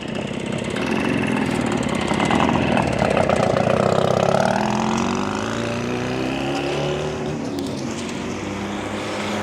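A car engine in a Havana street runs steadily and loudly throughout, with a droning roar that rises and shifts in pitch as it idles and then pulls away.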